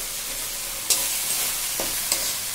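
Tomato with onion, garlic and ginger paste, salted, sautéing in a pan: a steady close sizzle with a few soft scrapes of stirring.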